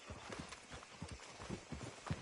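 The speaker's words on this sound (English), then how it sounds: "That's a nice horse" Horse hooves clip-clop in a steady walking rhythm inside a PS4 video game, a quiet series of hollow, evenly spaced hoof strikes with no talk.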